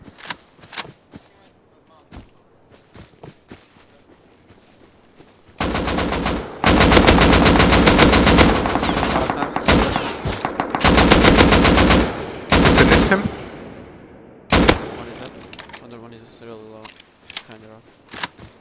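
Shooter video game gunfire: scattered single shots give way to long loud bursts of rapid automatic fire, then sparse shots again, with players talking over the action.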